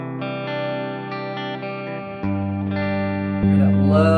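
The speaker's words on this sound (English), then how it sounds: "Hear that lovely reverb." Sustained electric guitar chords through a JET Pedals Revelation Reverb pedal, ringing out with a wide reverb tail, each new strum blooming and washing into the next.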